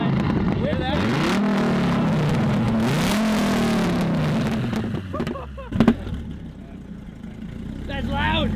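A Dodge Viper engine on a race track, revving hard through rising and falling pitch sweeps, loud and close at first, then easing off with a few sharp pops and a voice near the end.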